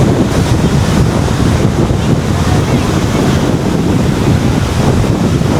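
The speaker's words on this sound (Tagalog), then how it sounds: "At maalon yung dagat." Steady roar of ocean surf at a Boracay beach with wind buffeting the microphone, loud and continuous throughout.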